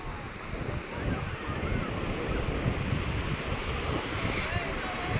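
Waves breaking and washing onto the sand at Om beach, a continuous loud surf roar mixed with wind buffeting the microphone, with no voices.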